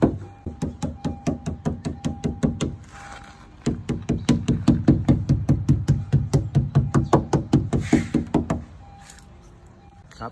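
Rubber protective edge trim being tapped onto a car door: a steady run of sharp knocks in quick rhythm, two bursts separated by a short pause, close and loud with no voices.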